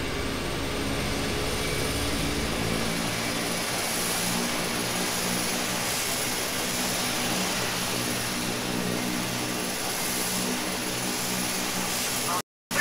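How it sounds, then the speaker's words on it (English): Embraer EMB-120 turboprop taking off from runway 4 left in a flight simulator game, a steady loud propeller and engine drone holding throughout before cutting off abruptly, with voices talking over it. "Cleared for takeoff, runway 4, left, Embraer."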